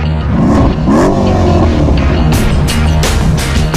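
An AMG 5.5-liter V8 biturbo engine revs hard, its deep burble rising and falling through a few throttle blips, loud and close with sharp bursts of exhaust noise toward the end.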